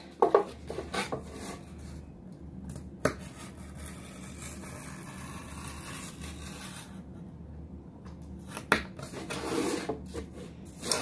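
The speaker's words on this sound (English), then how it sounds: "We're going to take our sharp object and we're going to score." A sharp blade scores and slices through a cardboard shipping box being cut down to size, giving close, quiet scraping and rasping strokes with a few sharper clicks, alone without talk.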